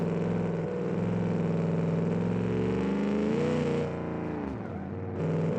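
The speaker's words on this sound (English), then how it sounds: "Love the guttural sound of a hefty cross-plane V8." A hefty cross-plane V8 in the Kiev Motors 11 car in BeamNG drives past with a deep, guttural burble, rising and falling in pitch as the revs change, steady and close throughout, with a brief dip near the end.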